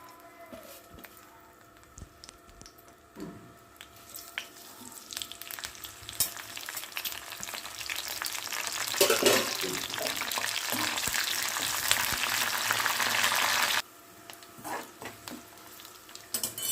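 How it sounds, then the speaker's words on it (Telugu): Garlic and tempering spices crackle and fry in hot oil in a wok for bitter gourd fry, a steady sizzle that swells loud through the middle then drops sharply near the end, with occasional stirring clinks. "ఆయిల్ అయితే వేడెక్కింది ఇప్పుడు వెల్లుల్లిపాయలు ఇంకా పోపు వేసుకుందాం"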